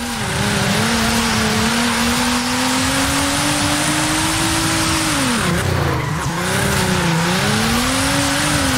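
In Forza Horizon 5, a 2023 Nissan Z's twin-turbo engine roars loud and close during a drift, its pitch rising and dipping with throttle, tires squealing through the slide.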